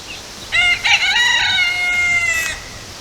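A farm chicken, likely a rooster, gives one loud, close, drawn-out crow lasting about two seconds against quiet background, with no talk.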